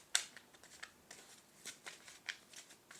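Playing cards riffled and shuffled in short crisp bursts, close and fairly quiet, with soft rustling between the louder snaps.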